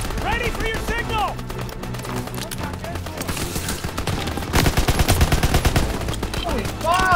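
Machine gun fire in the Call of Duty WW2 campaign, sustained rattling bursts up close amid explosions and battlefield chaos, with shouting voices over the gunfire.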